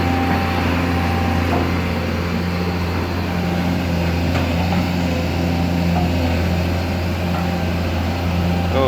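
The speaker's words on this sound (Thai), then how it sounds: "เสียงรถแตกดีว่ะ" A steady, low engine idle rumbles continuously with a rough, uneven exhaust burble, loud and close, with no talking.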